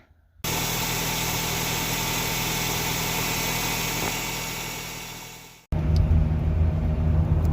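A Nissan Altima's QR25DE four-cylinder engine, fitted with an aluminum crank pulley, drones steadily and loudly from inside the moving car, fading briefly before a sharp cut and then returning with a heavier rumble.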